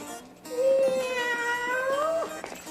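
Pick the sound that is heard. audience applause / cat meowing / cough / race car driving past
cat meowing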